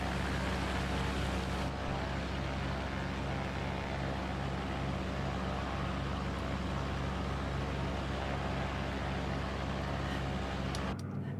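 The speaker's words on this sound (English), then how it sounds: "Listen to that engine." An aircraft engine in a flight simulator on a flight toward the west coast of Sumatra drones steadily and loudly with a constant low hum, then cuts off abruptly at the very end; no talk.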